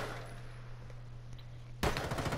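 Burst of gunfire in Rainbow Six Siege breaks in sharply near the end after a quiet stretch with a low steady hum, loud and dense against the faint background.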